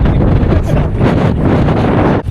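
Strong wind buffets the microphone beside a pier, a loud, steady roar with gusty surges that continues for the whole stretch, with no voices.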